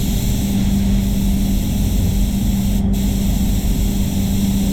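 A spray gun running full fluid at 25 PSI lays paint onto a Voodoo Blue VE Commodore, a steady continuous hiss that holds unbroken and close throughout, with no talk over it.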